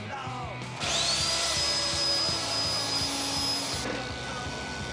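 A chainsaw starts up and runs at a steady high-pitched whine for about three seconds, loud and close, then drops back to a low idle.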